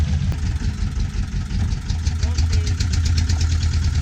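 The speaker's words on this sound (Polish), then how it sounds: "Silnik tutaj klepie jak pan toster normalnie." Boat engine idling with a rough, rattling knock on a trip around Ha Long Bay and Cat Ba in Vietnam, a steady close chugging drone with voices talking over it.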